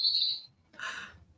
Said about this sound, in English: Somebody has their window open with birds.